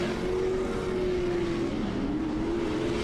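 Pro-Lite race truck engine held at full throttle on a dirt track, a steady loud droning roar with a sustained whining pitch that dips and climbs slightly, continuous and close.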